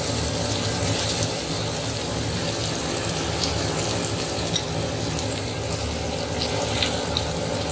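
Partly boiled mutton pieces fry with ginger and garlic in a hot pan, a continuous close, loud sizzle with scattered crackles and light stirring noise, without any talking.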